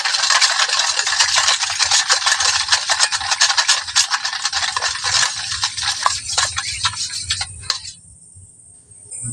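Salt and white oil being stirred into hot water in a bowl, a steady scraping, swishing rattle that carries on at close range for several seconds, then cuts off abruptly near the end.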